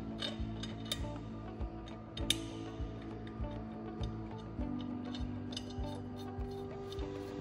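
Metallic ticking and clinking as the top bolt is set into a pump casing, light repeated taps over a steady mechanical hum, with occasional sharper metal chinks close by and no talking.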